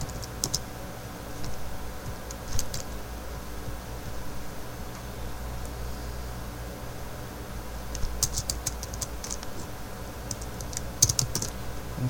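Someone types on a computer keyboard in irregular bursts of quiet, close key clicks, with pauses between runs and a faint steady hum underneath.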